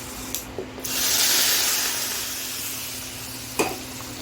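Fried garlic tempering hits a pot of bottle gourd stew with a soft sizzle that swells for a couple of seconds and fades, followed by a light scrape of a spoon stirring.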